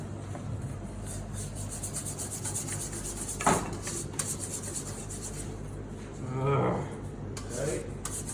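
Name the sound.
stirring and loosening chocolate in a bowl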